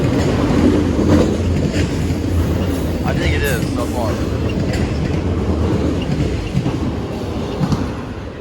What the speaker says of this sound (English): I caught the train just in time before I almost missed this train